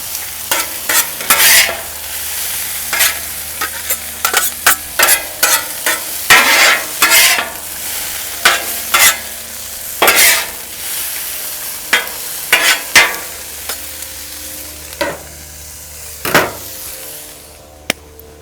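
A reverse-seared steak for a steak sandwich is laid back on a grill heated to around 500–600 degrees. It gives a steady, close sizzle broken by repeated sharp knocks and scrapes of utensils, with no talking.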